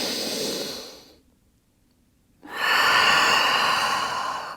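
A long, steady breath is exhaled during a yoga side stretch. A loud airy exhale is followed by a short silence, then another strong, close breath.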